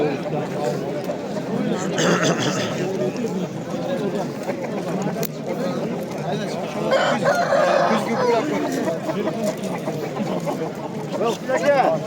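A rooster crows at the Dakan poultry bazaar in Namangan, two loud crows rising above the busy market chatter, with people talking close by throughout.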